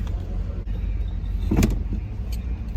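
A car pulls into a parking spot at a convention, its engine running as a steady low rumble throughout, with a couple of brief clicks and knocks near the end.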